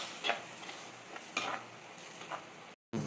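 Tomatoes sauté in a pan under a faint steady sizzle, with a few spoon strokes scraping through them, close and quiet, before a brief silent gap.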